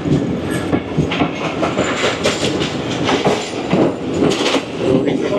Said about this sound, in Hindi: down Karachi express